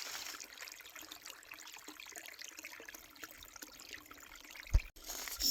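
A small waterfall trickles steadily into a teeny pool along a walking area, a soft continuous splashing with one brief louder knock near the end.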